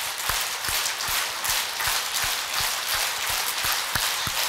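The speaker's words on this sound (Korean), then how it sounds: "손바닥 박수." A church retreat audience claps with their palms in a dense, steady wash of applause, with a few louder individual claps standing out in a loose rhythm, sustained throughout without speech.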